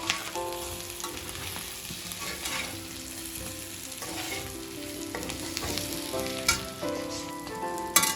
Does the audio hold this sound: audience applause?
no